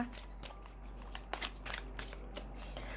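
A deck of tarot cards is shuffled up close in a quiet room, quick papery riffles and soft slaps coming in several bursts, fairly faint.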